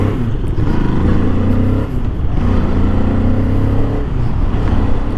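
2025 Moto Morini Calibro 700 Bagger motorcycle ridden during break-in and short shifted, a loud close engine rumble rising in pitch, dipping at each gear change and pulling again.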